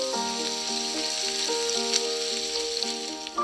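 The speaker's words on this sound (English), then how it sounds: "So we've browned all the meat, and now I'm going to fry the onions." Onions frying in a pan after venison has been browned in it, a soft steady sizzle running throughout with a tonal background hum, close and moderate in level.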